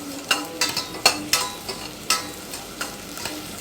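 Vegetables for kulambu sautéing in oil, likely brinjal, in a pan, with a soft steady sizzle and a series of scraping stirs at an irregular rhythm, close and moderately quiet, no talking.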